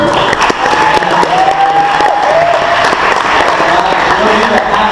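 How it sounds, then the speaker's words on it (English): Audience applause at a comedy club event, steady clapping filling the room throughout, with voices and tonal music mixed in underneath. "give another round of applause for Jeff right there on the shoes."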